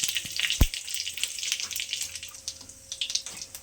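Cumin seeds and dried chilies sizzling in hot oil in a wok for a Bengali fish-head and cauliflower dish, a steady crackling hiss with one sharp knock near the start.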